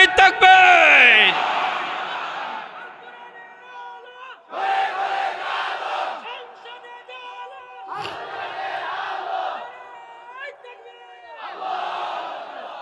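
A large crowd at an outdoor Islamic religious gathering (waz mahfil) roars a takbir response in loud, massed bursts, each swell rising and falling in turn, with a voice leading between them.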